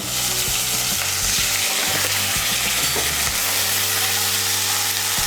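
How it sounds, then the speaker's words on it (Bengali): Ginger paste and green chili paste being stirred with a little water in a pan, a steady loud sizzle with scraping spoon strokes throughout, no voices. "আদা বাটা আর কাঁচা লঙ্কা বাটাটাকে ভালো করে মিশিয়ে নেব"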